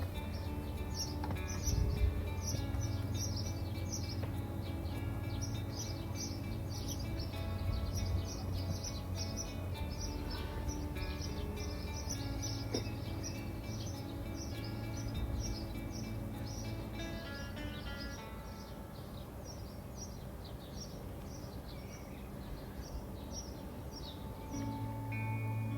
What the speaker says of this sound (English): It was such a beautiful afternoon with the birds chirping in the